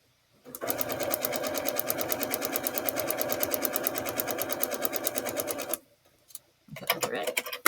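A sewing machine stitching a quilt block runs in one steady, rapid burst of even stitching for about five seconds, then stops. A brief second run starts near the end.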